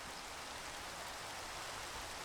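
Steady, even rainfall from Minecraft's rainy weather hisses continuously at a moderate level throughout, a dense wash of patter with no breaks and no talking.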